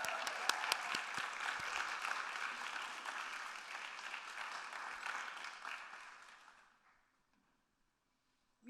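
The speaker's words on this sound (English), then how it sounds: "Please give her a round of applause." An audience at a staff reading applauds steadily for about seven seconds, the dense clapping fading out to near silence at the end.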